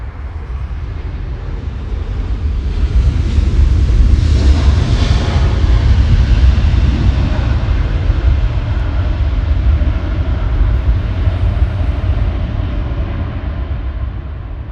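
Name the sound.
airliner slowing down on the runway after landing, Lufthansa LH453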